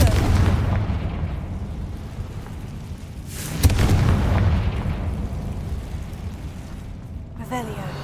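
Confringo blasting spell in the Hogwarts Legacy video game, two booming explosions with long rumbling decays, heard under a player's voice.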